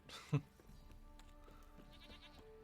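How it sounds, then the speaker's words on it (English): A short, nasal goat bleat rings out up front in The Witcher 3: Wild Hunt, followed by faint tonal game sounds and a quiet background hum. "it's goats again"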